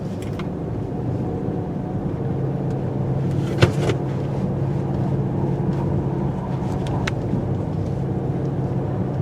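A 2017 Dodge Durango R/T with rear-wheel drive circles through a tight turn, its engine a steady, fairly loud drone with wind and road rumble and a short knock partway through.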